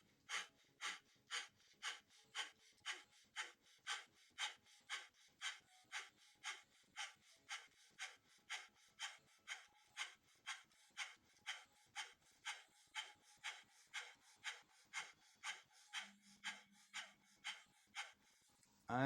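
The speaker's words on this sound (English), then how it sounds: "Eyes are closed down or breathing through the nose, rapid belly breath." Rapid, evenly spaced nasal breaths of kundalini yoga breath of fire, a steady pumping rhythm of roughly two sharp exhalations per second sustained throughout, close and fairly quiet, with no talking.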